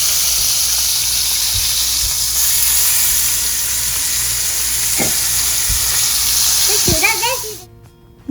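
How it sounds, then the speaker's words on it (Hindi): Steak sizzles steadily in butter with garlic, rosemary and black pepper, a broad frying hiss running throughout with a few sharp spatter pops and brief scraping near the end before the sizzle suddenly cuts out. "यहाँ पे हस्बैंड बना रहे थे स्टेक"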